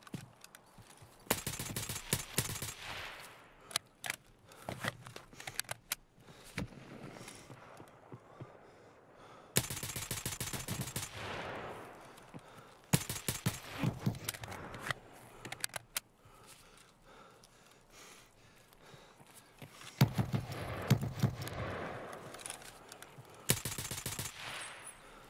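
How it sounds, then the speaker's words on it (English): Unsuppressed SKS rifle fire in the Escape from Tarkov video game: loud sharp cracks in irregular single shots and rapid volleys, with quieter gaps between bursts. "Nice to hear some unsuppressed SKS is cracking off."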